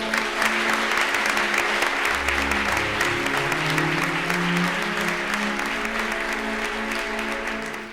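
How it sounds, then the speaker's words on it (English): Sustained audience applause following a trial performance by two teams, a steady dense wash of clapping with a faint low hum running underneath. "let me lead in an applause for both"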